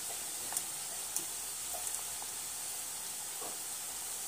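Puri dough for pani puri fries in hot oil with a soft steady hiss and faint sizzle, plus a few small pops and ticks, quiet and continuous with no talking.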